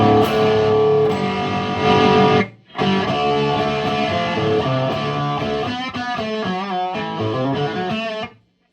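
Electric guitar played through an older-circuit Marshall amp with the preamp cranked, mild distortion, chords then a melodic run, sounding somewhat thin; a brief pause breaks the playing.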